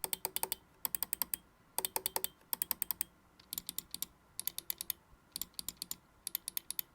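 A Logitech G Pro X Superlight 2 wireless gaming mouse with optical switches clicks in quick bursts of two to four sharp, close clicks separated by short pauses, faint and clean with no voices.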